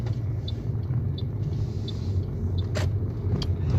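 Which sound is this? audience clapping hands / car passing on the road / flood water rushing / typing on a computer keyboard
car passing on the road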